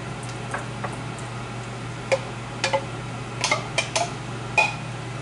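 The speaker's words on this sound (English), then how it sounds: "we're just going to add it slowly," A spoon stirs a flour and beef broth mixture into a pot of PA Dutch snapper soup, making sparse soft clinks and taps against the pot over a steady low kitchen hum.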